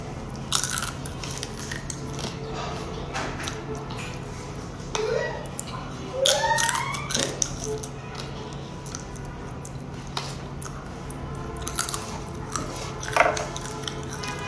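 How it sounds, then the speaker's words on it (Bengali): Someone chews and bites into fish heads while eating rice, with wet crunching and squishing bites in close, intermittent bursts and occasional quiet talk. "মাথাগুলা খাই।"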